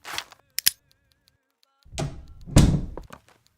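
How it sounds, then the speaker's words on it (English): A door swings shut with a solid thunk in an indoor scene, followed by a louder bump and rattle; brief, close and separated by silence. "Close the door."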